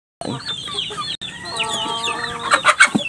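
Chickens clucking in a farm pen shared with Muscovy ducks, close and fairly loud, a busy overlapping mix of clucks and calls that grows more agitated toward the end.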